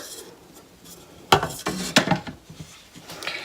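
A metal pot being set down inside an Instant Pot pressure cooker while making rice pudding: a couple of sharp clunks and scraping knocks, close and fairly quiet, over a low room hum.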